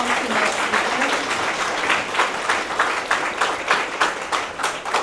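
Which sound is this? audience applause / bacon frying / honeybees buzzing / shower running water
audience applause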